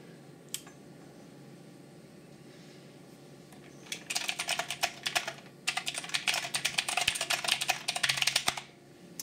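Rapid clicky typing on an Ajazz mechanical gaming keyboard fitted with loud blue switches. Dense bursts of sharp key clacks are heard up close, after a few seconds of quiet room hiss.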